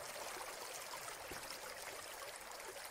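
A small stream trickles and flows in a park, a soft continuous burbling wash heard from a short distance, faint and steady with no voices.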